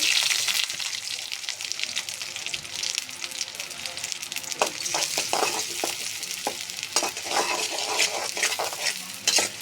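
Chopped onion and green chili hit a pan of hot oil with toasted cumin, for a ridge gourd and egg fry. A loud, continuous sizzle runs throughout, broken by scraping stirs in the second half.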